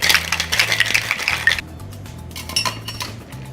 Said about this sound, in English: We're going to seal and shake.